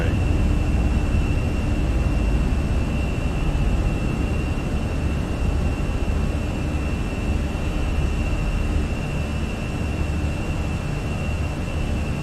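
An Airbus A320 takes off in Microsoft Flight Simulator, its engines a loud, steady roar with a constant high whine that holds unbroken from start to finish.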